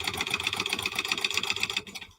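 A sewing machine stitches steadily, a fast even whirring hum with rapid needle clatter that holds at moderate loudness, then stops abruptly near the end.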